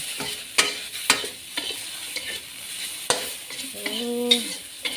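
Oncom leunca, a Betawi dish, is stirred and fried in a pan: a steady close sizzle with repeated scraping strokes of a spatula and a few sharp clinks against the pan, no voices.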